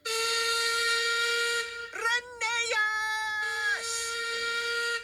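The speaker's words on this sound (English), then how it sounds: "So Peter Sam whistled as long and as loudly as he could." Steam engine whistle from the little engine Peter Sam, a long, loud, piercing blast that wavers and breaks briefly midway before resuming at full strength, heard alone.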